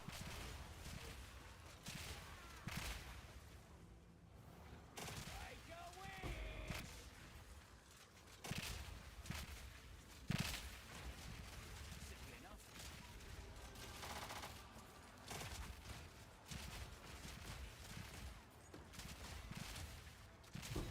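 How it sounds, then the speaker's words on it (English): Rapid video game gunfire and explosions crackle in dense, overlapping bursts at low level, with occasional sharper bangs and a busy mechanical clatter. "All those Ellie explosions"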